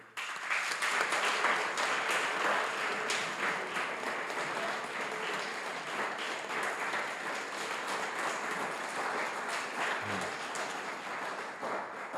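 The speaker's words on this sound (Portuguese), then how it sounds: "Aplaudam o nome do Senhor." Congregation at a Baptist church service applauding steadily and loudly after a prayer, a dense, continuous wash of clapping that fills the room for the full length with no speech over it.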